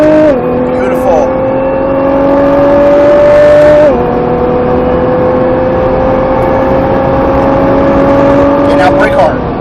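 A Nissan GT-R accelerates hard around a SpeedVegas race track. Its loud engine note climbs steadily, and a quick gear shift briefly drops the pitch before it rises again, while an instructor talks over the noise.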